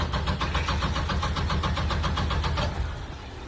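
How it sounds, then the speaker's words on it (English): A car engine cranks over repeatedly on the starter in a steady rapid rhythm without catching, with the fuel filter removed ahead of the injectors. The cranking is loud and close, then tapers off at the end. "Turn the car over."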